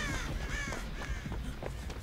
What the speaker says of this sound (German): Erstmal ein paar Vögel aufgeschreckt.